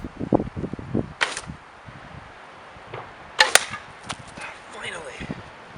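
A warbow shooting arrows at rawhide scale armor on a windy day outdoors, with a few sharp snapping releases and thuds spaced apart amid gusty wind noise.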